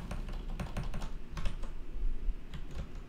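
Close computer keyboard typing while a Helm chart is edited, a quick irregular patter of key clicks over a low background rumble, with no speech.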